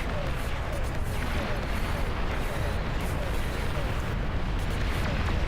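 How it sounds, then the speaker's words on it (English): Galleys in the real-time strategy game Beyond All Reason fire long-range plasma cannons in a dense, continuous barrage of rumbling blasts and booms that holds steady and loud throughout. "Those galleys have long-range plasma cannon."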